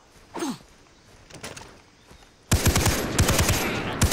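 Rapid automatic gunfire in Far Cry 3, aimed at a goat, erupts loudly after a quieter stretch of scattered footsteps and rustling, the bursts continuing in a dense, close rattle.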